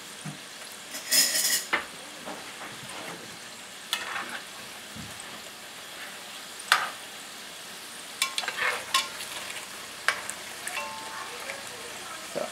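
Fry bread dough bubbles in hot oil with a soft, low sizzle, punctuated by scattered clatters of utensils and pans nearby, with brief speech at moments.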